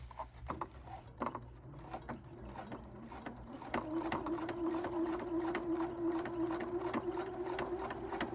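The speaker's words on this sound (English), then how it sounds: "And then we can sew again." A sewing machine stitches a pant hem, starting with short, uneven mechanical clicks and then settling into a steady, close, continuous whirring run for the second half.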